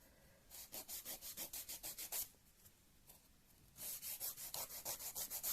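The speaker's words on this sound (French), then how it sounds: "il faut limer, vous voyez, faut limer les ongles" A nail file rubbed back and forth across fingernails in quick, even rhythmic strokes, a burst of about ten passes, a short pause, then another run, close and fairly soft.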